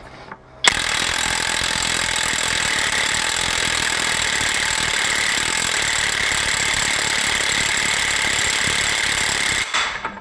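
A SHIDOKU SH G2 cordless 3/4-inch impact wrench hammers continuously at third speed for about nine seconds, a loud, dense, steady rattling clatter that starts and stops abruptly.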